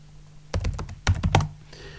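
Fingers tap out a password on a computer keyboard, a quick close cluster of crisp key clicks in two short bursts over a faint background hum.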